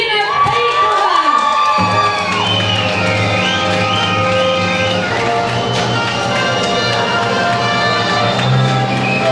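At a school ball nomination, the audience breaks into loud continuous applause and cheering, with shouts and whoops rising over steady clapping and music underneath.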